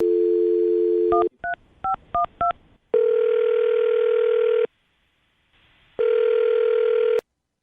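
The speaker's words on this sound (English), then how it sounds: "I'm going to dial her phone number right now" A dial tone, then a quick run of keypad beeps, followed by two long ringback tones separated by a silent gap.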